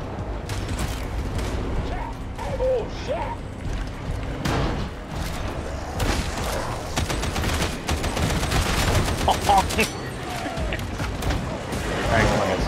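Dense, continuous gunfire from the video game Warhammer 40K Darktide, rapid cracking shots and bursts layered with mechanical clanks and creaks, while players talk over the din.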